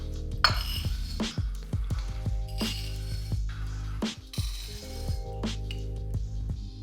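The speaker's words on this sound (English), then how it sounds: "First, I add half a cup of oats." Half a cup of oats goes into a container for overnight oats, with crisp clinks and clatters of a measuring cup, utensils and dishes landing close by at an irregular pace. A soft rustle sits between the sharper knocks.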